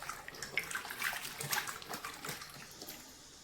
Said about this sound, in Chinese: 切好泡清水中，洗一洗，泡一泡